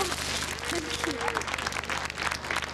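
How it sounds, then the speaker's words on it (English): A studio audience gives a big round of applause for prize winners on a TV show, dense steady clapping throughout with a voice talking over it. "What about a big round of applause for our lovely winners, Mr. and Mrs. Crosby?"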